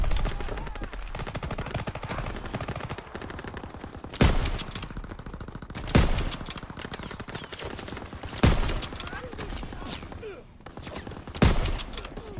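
Machine gun fire in Call of Duty WW2, a dense continuous rattle of automatic shots punctuated by several loud heavy blasts every couple of seconds, with no talking.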